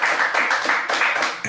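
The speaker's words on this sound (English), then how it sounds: "Let's have another round of applause." Comedy club audience clapping, a brief burst of quick, close handclaps with a pulsing rhythm lasting just over a second.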